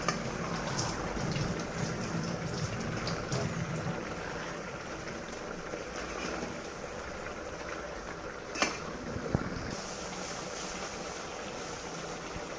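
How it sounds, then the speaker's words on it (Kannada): Coconut chicken curry with mint leaves and coriander bubbles in a pot, a soft, continuous crackling simmer with scattered pops and a sharp clatter near the end. "ಇವಾಗ ಇದು ಚೆನ್ನಾಗಿ ಬಾಯ್ಲ್ ಇಡೋಣ, ಮಿಕ್ಸ್ ಮಾಡಿ"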